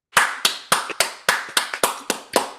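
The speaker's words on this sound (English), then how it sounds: "what I would like is for everybody to applaud Larry, because that took courage" Sharp, distinct hand claps ring out one after another in a steady, slightly uneven rhythm, about nine in all, close and clear with no talking.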